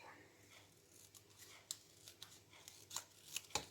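Scissors cut a photo for a scrapbook page, quiet crisp snips scattered over a few seconds, growing more frequent toward the end, close but faint.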